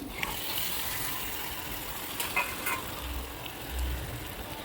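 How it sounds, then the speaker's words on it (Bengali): Chicken gizzard and liver fry in a thick spice paste, a quiet bubbling sizzle with occasional wet stirring scrapes and faint clicks, heard alone. "চিকেন স্টমাক মেটে ভালো করে কষিয়ে নেব"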